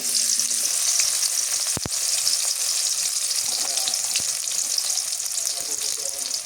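Oil sizzles steadily in a pan while hilsa fish is cooked with eggplant, carrots and new potatoes, a continuous bright hiss with a couple of sharp clicks partway through and no talking.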